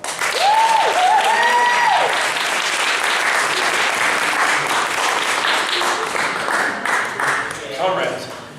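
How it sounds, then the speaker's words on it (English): A crowd at a food co-op 40th anniversary gathering gives loud, sustained applause for co-founder Marc Strumpf, many hands clapping densely throughout, with a brief whoop or voice rising above it early on. "So round of applause for Marc."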